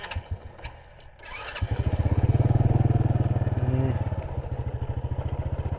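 A motorcycle on a rural farm road starts up after a few faint knocks, then runs with a loud, close, rapidly pulsing engine that rises in pace and settles into an even putter.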